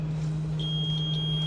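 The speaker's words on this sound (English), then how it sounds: "It will make a sound when you test it for continuity." A continuity tester held to a refrigerator heat element gives a steady, thin electronic beep that starts partway through and holds on, over a constant low electrical hum.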